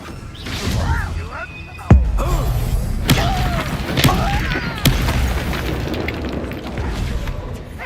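Sharp booming blasts of the Confringo fire spell in the game Hogwarts Legacy, several separate explosions about a second apart with whooshing tails, mixed with in-game voices and combat noise.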